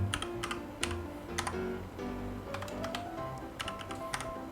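Computer keyboard typing while a keyword is entered into a search field in Roblox Studio's AI texture generator: irregular bursts of close, crisp key clicks with short pauses between them, no voices.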